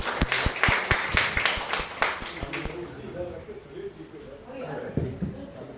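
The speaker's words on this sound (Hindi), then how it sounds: "एक बार तीनों के लिए जोरदार तालियां होनी चाहिए।" At an award ceremony honouring poets, an audience claps in a few sharp, rhythmic strokes that quickly thin out, after which a voice talks over the fading room sound.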